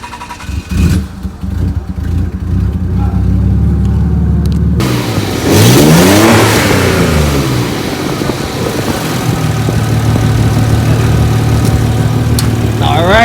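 A Nissan 300ZX twin turbo fitted with new OEM spark plugs cranks and fires up, then its engine roars loudly and revs before settling into a steady idle nearby.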